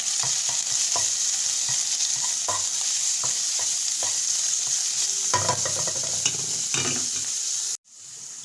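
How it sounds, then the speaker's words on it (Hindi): Pieces of chicken sizzle loudly in a hot pan while a spoon stirs and scrapes repeatedly, the frying cutting off abruptly near the end. "चिकन डाल के हल्का सा फ्राई करेंगे।"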